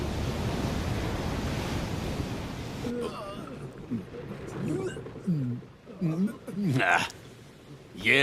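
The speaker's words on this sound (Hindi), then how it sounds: "ये लहरें तो कुछ भी नहीं थी।" Animated ocean waves from a dubbed anime sea scene, heard as a loud, continuous surf roar with wind that dominates the first few seconds, then drops back under urgent voices talking.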